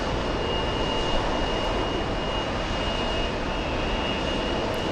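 Embraer E175 regional jet taking off at JFK airport: a steady, loud jet-engine roar with a faint high whine, holding constant throughout with no voices.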